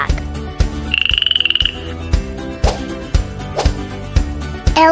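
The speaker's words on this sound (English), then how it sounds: "Frog." A frog gives a quick rattling croak, a rapid trill of pulses, amid steady percussive thumps of background music.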